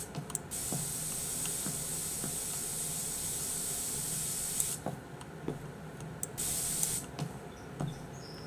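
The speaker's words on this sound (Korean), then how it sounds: "일단 가게 들어왔으니까 좀 스프레이 좀 뿌리고 시작하자." A spray can hisses in short bursts inside an internet café in Internet Cafe Simulator 2, set over a steady hiss of game ambience with soft periodic clicks, no speech.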